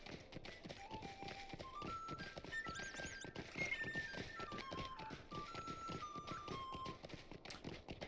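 A horse gallops in the Lord of the Rings Online video game, its hooves clip-clopping in a fast, steady rhythm under soft melodic game music.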